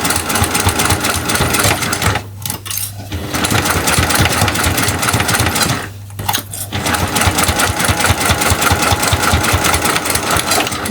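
A sewing machine stitching slowly through thick fabric layers of a square pouch, a loud rapid mechanical chatter that runs steadily and briefly pauses twice before resuming.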